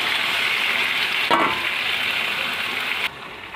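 Pork pieces coated in spices sizzle and fry steadily in oil with chopped onion and tomato, a loud continuous crackle with a brief stirring scrape partway through.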